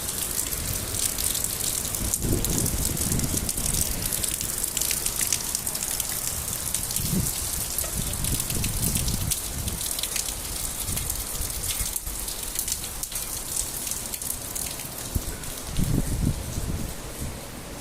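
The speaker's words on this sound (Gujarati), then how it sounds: "બહુ સોલિડ સખત વરસાદ પડે છે આજે." Heavy rain pours steadily and loudly, a dense hiss of drops drumming on surfaces with no break throughout.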